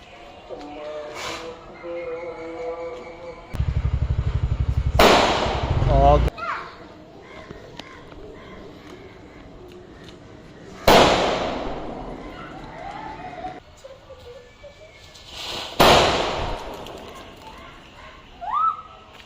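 Kannan brand firecrackers set off for Vishu 2024 go off as four sharp, loud bangs spread over the stretch, each trailing off in a crackling decay, with birds and voices in the background between bursts.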